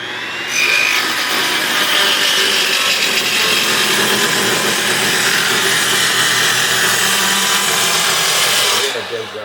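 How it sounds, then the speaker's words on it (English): A bandsaw cuts through wood in one long, loud, steady buzzing run that starts just after the opening and stops abruptly near the end. "I dug out this friend of mine's bandsaw that he had left here, and I used it."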